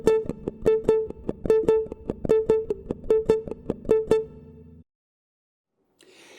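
A samba accent pattern plucked on a single guitar string, one repeated note in a quick syncopated figure with some strikes louder than others, clear and close, then a held bass tone and silence.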